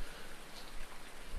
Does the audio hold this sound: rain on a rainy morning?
yes